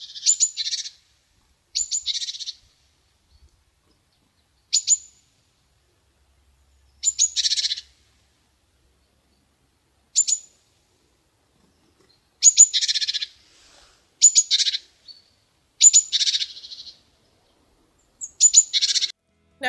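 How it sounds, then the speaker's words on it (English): A bird gives short bursts of sharp, high gargling and alarm calls in irregular clusters, fairly close and loud against near silence between calls. "They also have a gargling call, which is aggressive, and it's exchanged between like two birds."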